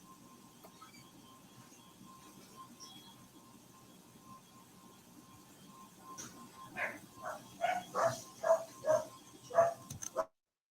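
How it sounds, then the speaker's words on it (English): Puppies barking in a quiet room, a string of about eight short, high yips in quick succession near the end, clear but a little distant after several seconds of low background hum. "I hear some puppies."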